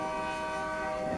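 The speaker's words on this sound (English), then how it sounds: "they are showing a Union Pacific freight train" A Union Pacific freight train's horn plays from a television at the Arizona Railway Museum in Chandler, Arizona, a steady sustained multi-tone blast, faint and unbroken.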